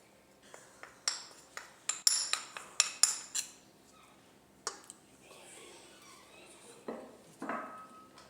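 Spoon adding flour to a bowl of chicken kebab mixture, heard as a series of close, sharp metallic clinks and taps against the bowl, followed by fainter scraping and a few more knocks.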